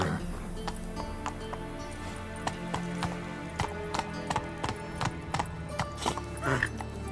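Roach the horse gallops in The Witcher 3, a steady rhythmic clip-clop of hooves close by, with the odd louder hoof strike and a brief whinny near the end.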